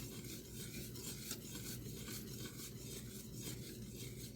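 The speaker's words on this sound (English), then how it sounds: "1 cup of brown sugar, which I Swift. I'm gonna mix that in." A spoon scrapes and rasps around a bowl as brown sugar is stirred into a melted mixture for a pineapple upside-down cake, making continuous close gritty rubbing with no speech.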